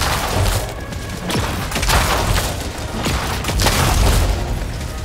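An electric arc thrower fires in the shooter game Helldivers 2 against automaton soldiers, producing dense, loud crackling discharges and booming bursts that run continuously with a few sharper snaps.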